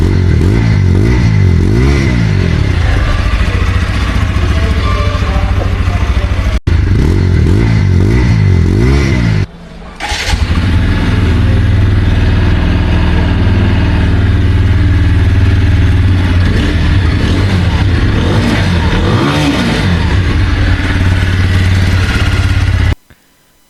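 A TVS Apache 160 4V motorcycle engine revs up loudly and close, its pitch climbing and falling in repeated surges, with a brief drop near the middle and a sudden cut at the end.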